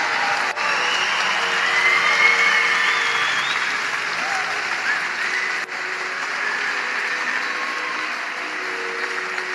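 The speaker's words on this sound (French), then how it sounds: "On va faire un maximum de bruit pour les 2 grands gagnants de cette soirée, Alitzer Kiaga et Ion Zavala." A crowd at a Cesta Punta All-Star event in a large hall applauds steadily for the two winners, dense clapping with scattered cheers and whistles holding for several seconds, while an announcer's amplified voice carries over it.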